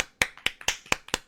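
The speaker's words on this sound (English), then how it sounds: "Golf clap for our boy." Soft, sparse claps come at an even pace, about six light pats spaced evenly apart, polite and restrained.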